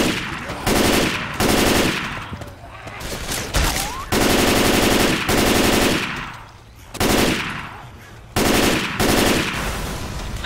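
Rapid automatic gunfire from the Left 4 Dead 2 video game comes in several loud sustained bursts, separated by short gaps, with game effects underneath.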